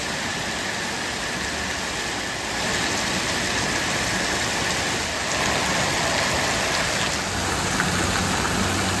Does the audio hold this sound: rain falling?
yes